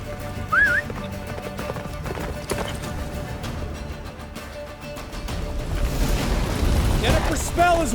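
Galloping horse in The Witcher 3, hooves clip-clopping at a steady pace beneath game music, with occasional whinnies and a voice calling out over the ride; the sound swells louder toward the end.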